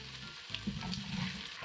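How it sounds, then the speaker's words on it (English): Drained potatoes added to onions and frying in olive oil for hash, giving a close, steady crackling sizzle with a few brief spatters and a faint stir. "add the potatoes to the onion, get that going on"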